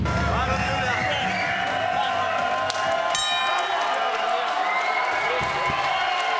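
Fight crowd at an Invicta MMA event cheering and clapping between rounds, a loud sustained roar with scattered claps and a sharp slap, while a commentator talks over it.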